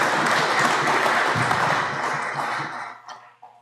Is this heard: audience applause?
yes